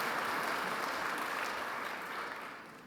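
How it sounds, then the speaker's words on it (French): An audience at an energy transition conference applauds a speaker, a steady wash of clapping at moderate distance that gradually thins out toward the end. "Donc vous pouvez l'applaudir"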